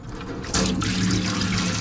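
Water running and trickling as it drains from the bottom of an M923 5-ton military truck's fuel tank, a steady close splashing stream that strengthens partway through and continues without talk.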